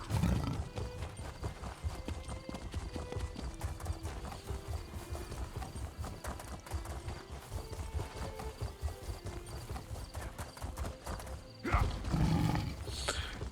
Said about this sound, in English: get onto the slow horse again